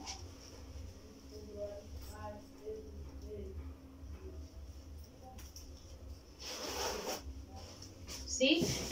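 Clothing zippers are pulled shut before a wash in a twin-tub washing machine, a brief, close rasping zip that stands out near the end, while someone talks quietly in the room.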